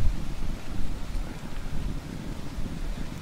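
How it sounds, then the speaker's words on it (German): Wind gusting outdoors beside a campfire, a steady low rumbling buffet with microphone wind noise that rises and falls over a few seconds, close and continuous, with no voices. "wie ihr sehen könnt, es kommt auch der Wind auf."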